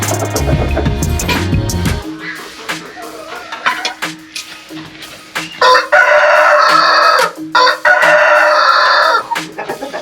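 Hens cluck and a rooster crows repeatedly in a free-range chicken coop on a farm, the calls loud and close, with a low rumble at the start.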